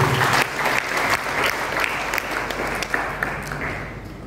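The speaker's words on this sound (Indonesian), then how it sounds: "Kasih tepuk tangan dulu untuk Tuhan" A room of listeners claps for God during a Christmas sermon in a hotel, giving brisk, fairly loud applause with distinct individual claps standing out through the crowd sound.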